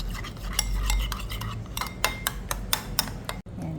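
Kani salad with toasted sesame being mixed in a bowl, utensils clinking and scraping against the dish in an irregular rhythm, close and fairly loud with no talk.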